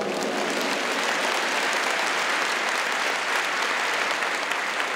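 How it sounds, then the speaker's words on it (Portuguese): A church congregation applauds steadily and loudly throughout, a dense, even wash of many hands clapping in a large hall with no pauses. "dá um aplauso para o nosso Senhor"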